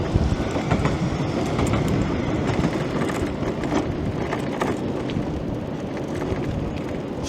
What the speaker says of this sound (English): We've got a mandatory tram shot for you there, folks